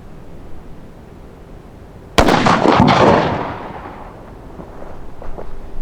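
A single sharp, loud shot from a .54 caliber black powder under-hammer rifle, followed by a rumbling tail that fades over about two seconds against steady outdoor background noise.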